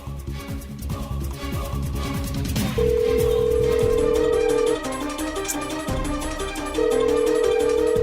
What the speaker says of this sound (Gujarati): છોકરીઓને જ ફોન કરું છું.